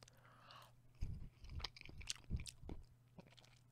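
Crunchy bites of a flimsy seasoned fry from a Mexican food meal, several close, moist chewing bursts in an irregular rhythm with no talking.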